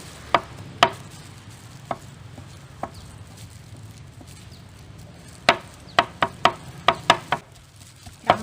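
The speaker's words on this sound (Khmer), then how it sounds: "យើងយកមកហាន់យើងបុកទៅបុករួចយកមកច្រាំឲ្យវាម៉ត់" Boiled chicken being minced with a knife on a board: sparse sharp chops at first, then a quicker run of loud close knife strikes toward the end, with no talking.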